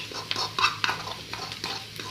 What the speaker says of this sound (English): Now I can add my little smoke herring in there.